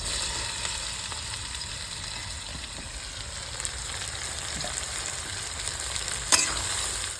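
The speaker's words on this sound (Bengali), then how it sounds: "পেঁয়াজ ভাজা হয়ে গেছে এবারে আদা দিয়ে পেস্ট দিয়ে দেবো" Chopped onion and a dried chili frying in oil with whole spices: an even, continuous sizzle hisses throughout, with a sharp utensil tap near the end, close and unaccompanied by talk.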